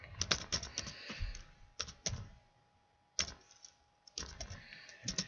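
Computer keyboard keys clicked in quick bursts, pausing and resuming, crisp close taps against near silence and no speech.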